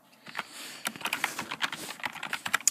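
Code being typed on a computer keyboard, a quick close run of crisp key clicks in an uneven rhythm, with no voices.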